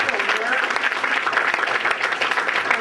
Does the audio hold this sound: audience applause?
yes